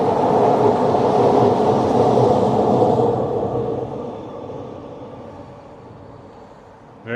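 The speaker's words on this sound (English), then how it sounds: "SkyTrain tracks right here for the Millennium Line." A SkyTrain on the elevated Millennium Line tracks in Vancouver's Renfrew-Collingwood area rumbles loudly past, a broad roar that fades gradually over the last few seconds as it moves away.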